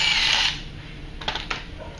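Dummy bolt being removed from a Star Trac brake assembly, a short whirring burst of a power driver followed by a few light metallic clicks.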